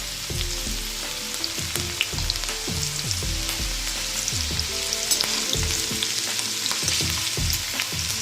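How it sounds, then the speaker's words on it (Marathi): Okra pieces coated in gram flour and rice flour deep fry in hot oil, a steady bright sizzle running throughout with bubbling and occasional knocks of the pieces against the pan. "आता आपण याला तळायला घेणार आहोत भेंडी आहे ते आपण टाकायची"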